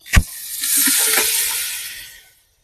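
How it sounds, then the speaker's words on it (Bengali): Marinated chicken hits a hot handi pot with a sharp initial splash, then a steady close sizzle of frying that holds for about two seconds before cutting off. "এবার এই চিকেনটা আমি হাঁড়ির মধ্যে দিয়ে দেবো।"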